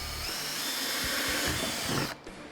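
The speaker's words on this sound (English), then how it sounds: "I'll drill a hole in the center of the circle" A power drill bores a hole through the center of a circle scribed in grease pencil on a workpiece, a steady loud whine that runs continuously for about two seconds before cutting off abruptly.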